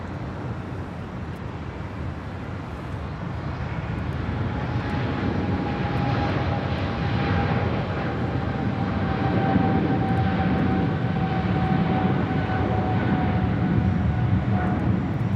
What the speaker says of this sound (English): we got the Philippine at 777-300ER heading back to Manila, flight 103, now rolling down